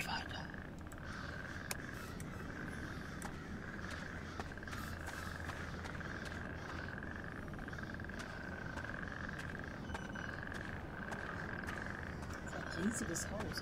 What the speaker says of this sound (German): Und die haben einen Frosch?